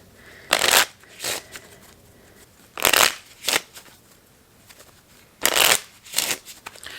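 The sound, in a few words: shuffling a deck of playing cards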